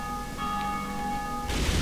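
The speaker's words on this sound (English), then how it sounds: "That bell tolling gets pretty loud now." A church bell tolls in the Dark Souls video game, one sustained, ringing metallic tone with lingering overtones, loud and alone, ending in a burst of broader noise.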